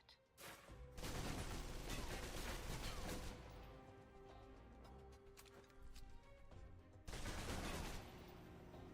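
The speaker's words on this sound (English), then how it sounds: "If you're trapped in close quarters with multiple opponents, the SMGs can help clear the room quickly." Submachine guns fire in rapid bursts during a PC shooter game, dense rattling volleys that start, pause briefly and resume, loud and close with a sharp crackle and no speech.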